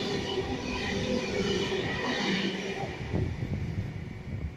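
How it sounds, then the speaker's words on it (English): A coal freight train hauled by 82 class locomotives rumbles past with a continuous roar of wheels and rattling cars, fairly close, with faint squeals and clatter throughout. "Got another freight train."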